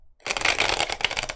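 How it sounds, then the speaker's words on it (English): Tarot cards being shuffled close up: a brisk papery riffle and rustle that starts after a brief silence and runs steadily for about a second. "Got a funky shuffle going on there. Let's give it one more shuffle."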